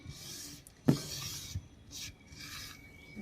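Fried jute leaves are crumbled by hand, giving soft dry rustling and crackling with a sharper crunch near one second and a few quieter crinkles after.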